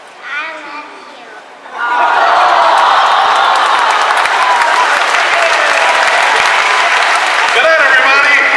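Audience applause and cheering at a Disneyland show, a loud, sustained wash of crowd clapping and voices that swells after a brief stretch of talk and keeps going.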